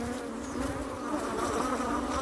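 Honeybees buzz densely around a brood frame at close range, a steady, moderately quiet humming drone with no voices.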